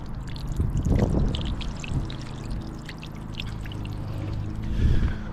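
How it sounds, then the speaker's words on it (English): Water pours out of a large garden waste bin tipped on its side, a continuous close splashing gush that surges and fades, swelling again near the end, without any speech. "So I've just been able to sort of tip it on its side, and we're just emptying all the water out."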